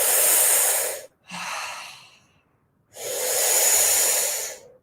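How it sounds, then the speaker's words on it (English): Deep connected breathing, three long airy breaths in close succession with a brief pause between the first two, loud and near with no speech. "breathe in through that part of your body. We do 5 connected breaths."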